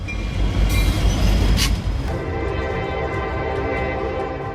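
A train approaches a railway crossing with a loud, deep rumble and a blaring horn blast near the start, then rolls past with a steady rattling roar.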